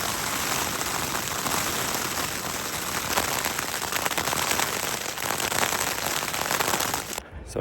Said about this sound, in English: the sky opened up and it started raining